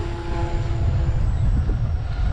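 Steady engine drone from a low-wing RC warbird model airplane, a continuous near hum with a faint high whine, alone without speech, in gusty 18 mph winds.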